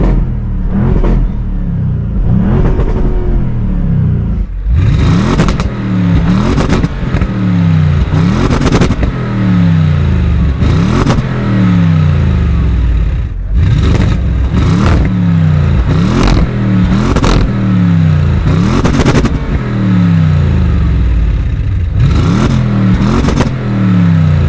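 An Audi RS6 on its stock exhaust with the valves open, revved hard again and again, producing loud, close blips that rise and fall sharply in quick succession.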